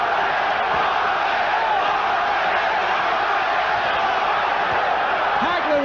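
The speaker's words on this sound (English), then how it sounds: "the crowd is chanting Duran's name" Boxing arena crowd at the Marvin Hagler versus Roberto Duran fight roars and chants Duran's name in a steady, dense wall of voices that holds throughout without letting up.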